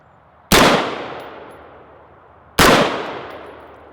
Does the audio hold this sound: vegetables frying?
no